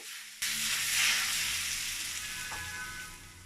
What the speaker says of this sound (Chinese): 加入蒜末、白芝麻，淋上热油